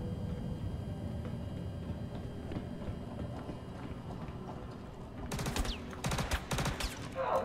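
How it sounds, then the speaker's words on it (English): Video game shootout in a bar: a dense, continuous clatter of gunfire fills the scene, with rapid bursts and sharper, louder shots crowding together toward the end. "Shoot out over the bar."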